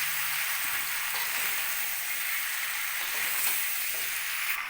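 Raw mango frying with sugarcane jaggery in a pan makes a constant, fairly loud sizzle and hiss throughout, with faint stirring scrapes, heard up close and without talk.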